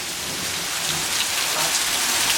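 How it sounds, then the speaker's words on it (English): Heavy rain pours in a continuous dense hiss and patter on surfaces during a thunderstorm, close and steady; thunder is not clearly distinct. "And it's thunder and lightning."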